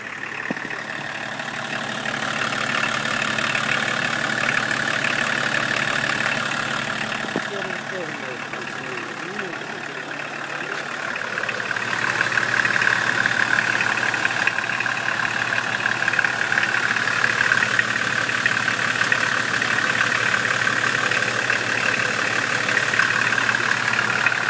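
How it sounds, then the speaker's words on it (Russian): A 1966 GAZ Volga fitted with BMW internals idles at a steady, smooth pace, a constant close engine drone with a faint high whine that swells slightly louder partway through, while someone talks over it. "двигатель четко работает"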